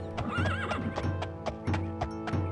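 Horse in the Daggerfall Unity video game whinnying in a rising, wavering call while steady hoof clip-clops repeat in a regular rhythm throughout, close and loud, with no talking.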